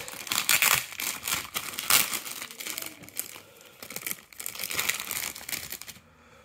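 Plastic packaging crinkles and crackles while a figure's stand is unwrapped, a busy close rustling that runs nearly continuously for about six seconds before stopping abruptly.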